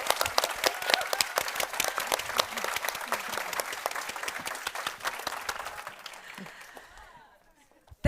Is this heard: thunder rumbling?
no